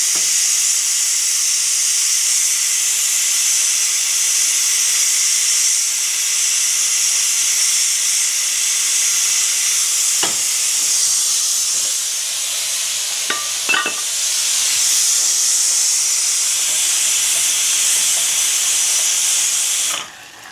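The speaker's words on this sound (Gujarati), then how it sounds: "મેં હિંગ નાખી દીધી અને ગવારને 2 થી 3 મિનિટ માટે કૂક થવા દઈએ તેલમાં" Guar beans cook in hot oil with asafoetida, giving a steady broad hiss of frying that runs unbroken for about twenty seconds. A few faint clinks and stirring taps come through near the middle.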